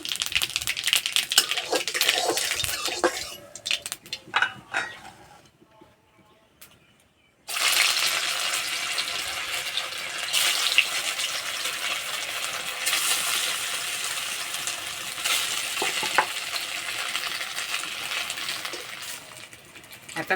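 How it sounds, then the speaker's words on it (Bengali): Whole mustard seeds and a dried red chili crackle and sizzle in a little hot oil in a wok, a dense, steady spitting hiss that drops out briefly before returning loud and continuous. "তেলে দেবো গোটা সর্ষে,"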